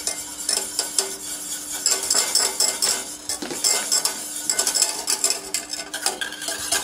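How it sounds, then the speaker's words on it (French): A whisk beats milk powder into boiling butter and water in a metal pan for choux pastry, with rapid, irregular metallic clicks and scrapes against the pan sides and a faint sizzle underneath. "À ébullition, retirer du feu et verser en fouettant la poudre de lait."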